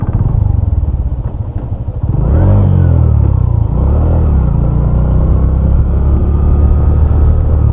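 A Suzuki Hayate EP motorcycle engine runs close by while riding, starting with a rough low idle before a clear rev lifts the pitch, then holding a steady, loud drone with a slight second rise, no voices.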